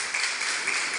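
Churchgoers at a sermon clap in a steady, moderately loud burst of applause that fills the room evenly, with no speech over it.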